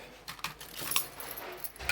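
A bunch of van keys jangling close by, with scattered light metallic clinks and rattles over a quiet background.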